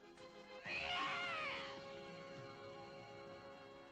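A cartoon cat in an Uzbek-dubbed Smurfs episode lets out a loud, wavering yowl that rises and bends for about a second, then trails off into quieter background tones.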